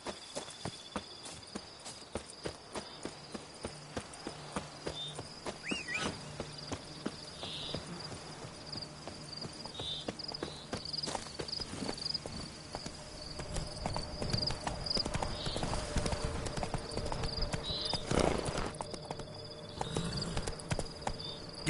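Horse hooves clip-clopping on the ground in The Witcher 3, a steady walking rhythm of soft, moderately near hoofbeats over a faint bed of chirping insects, with no talking.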